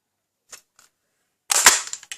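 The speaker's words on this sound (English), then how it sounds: "now I'm bringing in the 1 3/4 inch circle punch" A couple of faint clicks, then a sharp, loud snapping punch of a 1 3/4 inch circle paper punch through stiff cardstock, with a brief crunch and rustle afterward.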